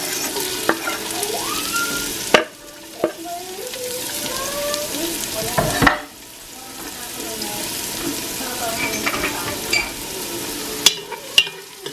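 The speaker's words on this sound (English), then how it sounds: "I have here my diced up onions and garlic, and we're gonna saute all that together." Diced onions and garlic sizzle steadily as they sauté in vegetable oil over medium-high heat, with a constant close frying hiss broken by a few sharp clacks of a spoon stirring the pan.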